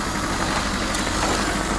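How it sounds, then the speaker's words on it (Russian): A car engine idles in frost right after a jump start, a steady even rumble with no revving, close by, with no one speaking. "Завели машину."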